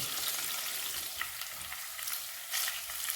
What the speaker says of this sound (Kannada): ಇದು ಹಸಿ ಎಲ್ಲ ನೀರಿನಂಶ ಎಲ್ಲ ಹೋಗ್ಬೇಕು ಚೆನ್ನಾಗಿ ಫ್ರೈ ಆಗಬೇಕಿದೆ